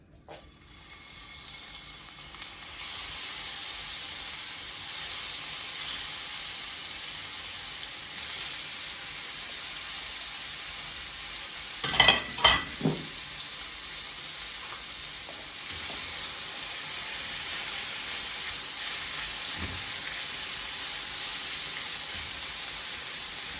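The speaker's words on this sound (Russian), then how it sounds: "нужно перемешивать нашу грудинку до испарения влаги" Brisket stirring and frying without oil in a dry pan over moderate heat, a steady broad sizzle throughout with a brief burst of louder scraping clatter midway, no talking.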